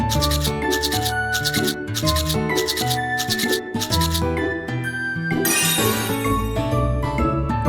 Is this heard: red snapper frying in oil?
no